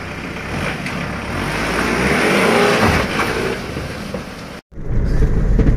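A 2000 Mitsubishi Pajero with a 4M41 3200 cc diesel engine accelerates under load, its loud engine roar climbing steadily before cutting out briefly and resuming.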